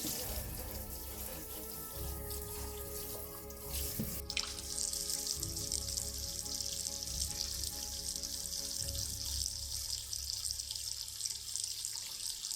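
Parrot fish rinsed under a running kitchen tap: a steady, close gush of water with splashing and drips that brightens partway through as the flow hits the fish and sink.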